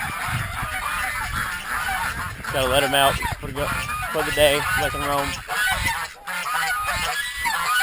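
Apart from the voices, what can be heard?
geese honking on a homestead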